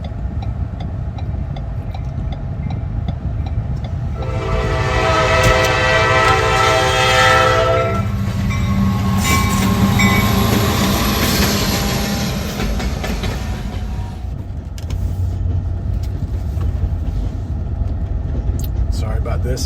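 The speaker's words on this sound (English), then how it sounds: "Hear that train coming around a bend." A train rounds a bend within a played soundscape, its horn blaring loudly mid-clip with rail rumble, set among steady background noise and talk before and after.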